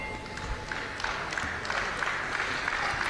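Crowd applause at an amateur boxing bout in the 71kg division at the GB Open, a steady wash of clapping with scattered sharper claps. It runs continuously and fairly loud with no talk over it.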